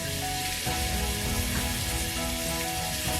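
Cut onions frying in olive oil give a loud, steady, close sizzle with dense crackling that continues unbroken throughout.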